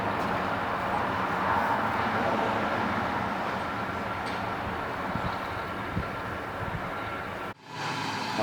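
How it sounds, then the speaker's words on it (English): A train rumbles past near a campsite in the Forest of Dean, a broad steady roar that holds at one level and then cuts off sharply near the end. "Another train coming across the road here."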